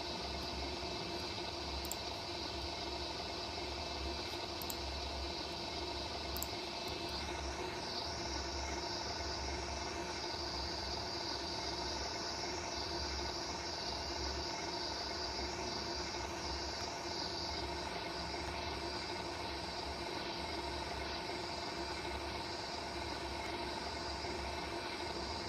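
An Air New Zealand ATR72 turboprop departs in Real Flight Simulator, its engines giving a steady, moderate hum and whine throughout with no clear peaks, and no speech.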